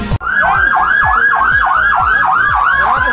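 Ambulance siren wailing at a traffic accident scene on the highway between Sonsonate and San Salvador, loud and close, a continuous rising-and-falling yelp repeating about every half second.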